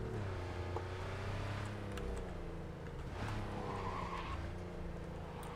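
Porsche driven in Cyberpunk 2077 skids with squealing tires over a droning engine, the slide holding for several seconds with revs rising and falling, moderately loud and close, no voices.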